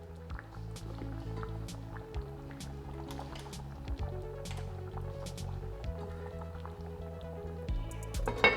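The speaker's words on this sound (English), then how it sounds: "Stir in 1½ cans of crushed tin tomatoes." Crushed canned tomatoes stirred into a Goan pork curry, giving a close, thick wet squelching and sloshing with repeated stirring strokes and soft drips throughout.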